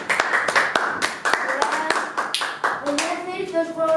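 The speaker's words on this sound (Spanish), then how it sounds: "Aquí vendrán aplausos" Handclaps during a magic class, a few sharp, irregular claps interspersed with children and adults talking nearby, close and fairly loud.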